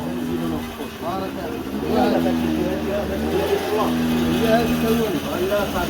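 A Yamaha Aerox scooter engine runs rough and uneven with a steady unsettled drone, close by, while people talk over it throughout.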